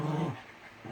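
A playful dog growls close by in a short, low rumbling burst that fades after a moment, with no one speaking.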